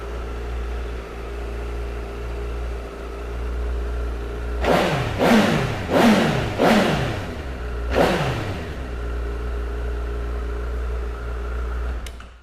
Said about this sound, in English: then look no further than this absolute stunner of a Honda Fireblade. So let's fire this one up and have a listen.